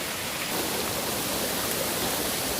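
Heavy rain pours down steadily during Hurricane Ian, a dense, loud, even hiss that fills the whole clip without a break, with no voices over it.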